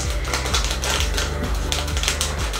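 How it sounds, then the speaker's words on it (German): A plastic snack bag from a Taiwanese sweets box is cut open with scissors, giving close, repeated crinkly snips and rustles that run steadily throughout. "Nein, wir machen sie nicht auf, wir schneiden sie auf."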